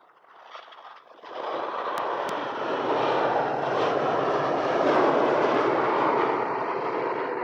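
A Ryanair Boeing 737 taxis at Edinburgh airport, its steady jet engine roar building after a quiet first second and holding loud and broadband to the end, with no voices over it.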